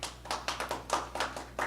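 Audience applause at a city council meeting in Millville: a short burst of steady, fairly close hand clapping from a small group, with no voices over it.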